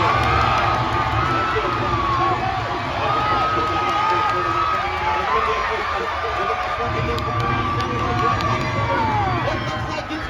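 Crowd at a pig race in Alaska cheering and shouting as the pigs run, a continuous lively roar of voices with whoops and children's shouts, announcer talk partly over it.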